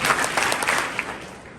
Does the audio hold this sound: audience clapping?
yes